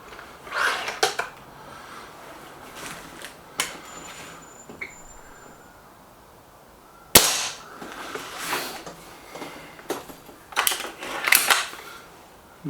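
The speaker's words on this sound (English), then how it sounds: "So Warhawk first, 5 shots to centre target." Remington Warhawk air rifle fired at a target outdoors: five sharp, close cracks spaced several seconds apart, with faint handling clicks between them.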